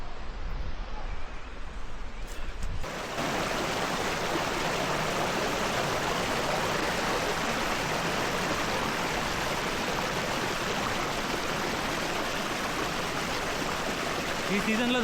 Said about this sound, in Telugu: వాటర్ ఫాల్స్ మాత్రం చాలా ఎక్సలెంట్గా ఉన్నాయండి.